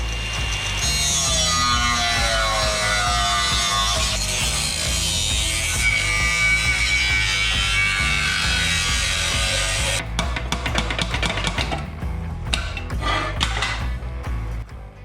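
A sill section is cut out of a Ford Landau coupe hardtop during restoration: a steady, loud rasping cut runs for about ten seconds, then breaks into choppy, stuttering strokes to the end.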